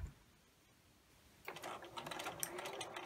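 A sewing machine runs steadily, stitching an apron pocket from the top down, starting abruptly after a quiet stretch and continuing with a fast mechanical whir and clatter, close and moderately loud.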